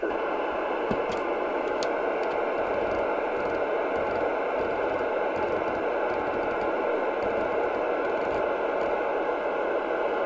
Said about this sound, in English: at least you've heard it actually receiving.